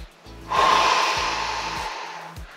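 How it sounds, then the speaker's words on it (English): Deep diaphragmatic breath during a morning stretching routine: a soft airy inhale sets in after a brief pause and swells into a long, steady, close breath that fades slowly, with low thumps underneath and no talking. "So I'm trying to really get deep diaphragmatic breathing."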